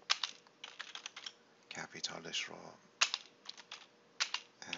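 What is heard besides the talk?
typing on a computer keyboard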